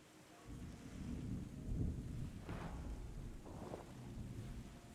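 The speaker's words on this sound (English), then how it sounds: "Got the nice rain going." Rain and thunder from the Terra Nil video game: a steady wash of rainfall with a low rumbling swell of thunder building in the middle, moderately loud and continuous with no talking.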